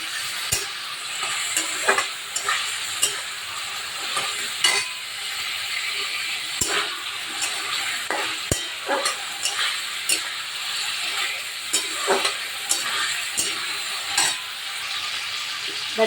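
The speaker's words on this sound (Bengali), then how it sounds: "মশলাটা কষে গেছে তেল ছেড়ে ভেজে আলুগুলো দিয়ে দিলাম" Potatoes frying in a cooked-down spice masala in a pan, a soft steady sizzle broken by repeated sharp scrapes and clinks of a spatula stirring, close by and without speech.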